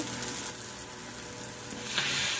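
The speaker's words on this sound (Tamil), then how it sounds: "நம்ம சின்ன வெங்காயம்லாம் ஆட் பண்ணி நல்லா கோல்டன் கலர் வர வரைக்கும் ஃப்ரை பண்ணிக்கலாம்" Small onions frying in oil with salt, giving a steady, close sizzle that swells a little louder toward the end.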